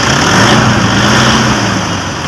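A 2012 Toyota Innova engine runs loud and close with a steady low rumble, slightly rising then easing, heard just after an alternator clutch pulley replacement.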